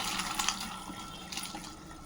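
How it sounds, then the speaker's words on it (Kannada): Cooking water from boiled legumes rushes and splashes steadily as it drains away while a village-style mixed vegetable bassaru is prepared, a continuous close gush of liquid. "ಕಾಳು ಬಸಿತಾ ಇದ್ದೀನಿ. ಬೇಯಿಸಿರೋ ಕಾಳು"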